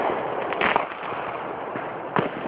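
Distant Fourth of July fireworks pop and crackle in the dark, a few faint bursts over a steady background hiss, with sharper reports near the start and end.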